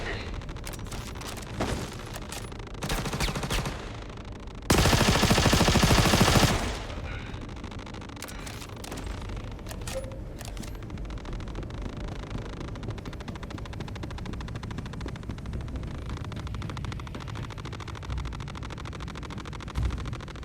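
Automatic gunfire from a weapon being sprayed without aiming in Star Citizen, with scattered shots, then a loud, dense sustained burst in the middle and lighter firing continuing after.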